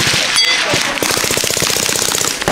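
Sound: gunfire from a rifle being shot

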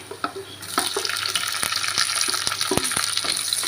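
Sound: sautéing sliced onion with ginger, garlic and green chilli

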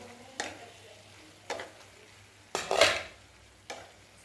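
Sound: stirring sweet potato slices in a pan

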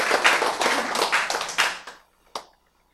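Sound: audience applause clapping

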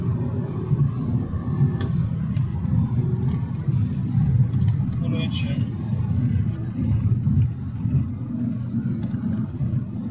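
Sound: Skoda Octavia 1.8 TSI on LPG accelerating

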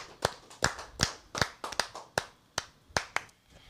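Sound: people clapping for a guest in the studio

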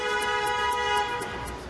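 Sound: car horn honking in Paris traffic

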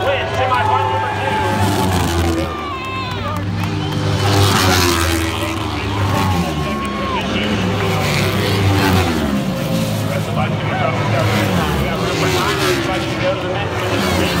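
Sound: Kawasaki racing motorcycles in heat race

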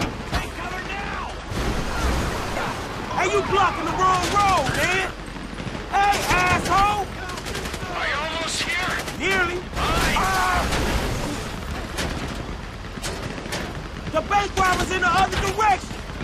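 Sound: gunfire while shooting out in GTA 5 video game

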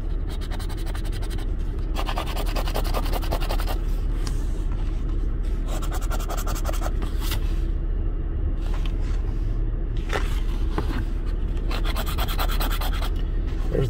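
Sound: scratching Texas Lottery scratch-off tickets

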